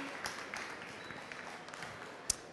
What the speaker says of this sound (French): qu'on applaudit extrêmement fort sous une foule en délire